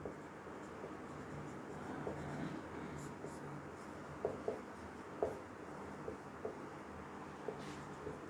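Chalk or marker scratching across a board during a physics lesson in a quiet room, with short strokes and a few sharp taps near the end; no speech.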